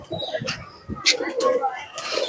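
Pakistani pigeons coo in a small collection, soft throaty calls overlapping with brief chirps close by, while people talk over them.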